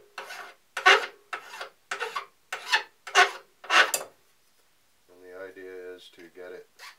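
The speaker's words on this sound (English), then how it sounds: "Working with the aluminum is nice because it files off so easily." Six rasping file strokes on an aluminum quick-release bracket, each a loud broadband burst in a steady back-and-forth rhythm, followed by a short stretch of a voice talking.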